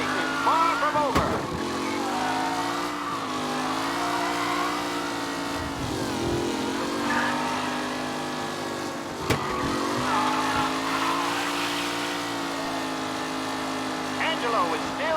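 Race cars in the Mafia Definitive Edition video game roar around the track, engines droning and shifting pitch continuously with occasional tire squeals, while a race commentator talks over the noise.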